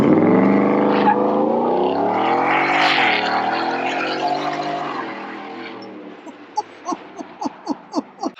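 A supercharged 2021 Ford F150 pickup with a 775 HP Whipple blower launches hard, its engine holding a loud, rising roar. It then fades into a series of sharp, evenly spaced bursts as the truck pulls away.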